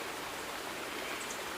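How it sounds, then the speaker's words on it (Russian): A flowing mountain stream in an animated cartoon, a steady broadband rush of water running continuously and fairly loud with no voices over it. "Тут ручей."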